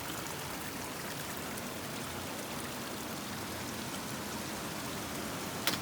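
A raging mountain stream in the Rockies near Hoodoo Hall rushes steadily and loudly nearby, a dense, unbroken wash of water with no voices over it.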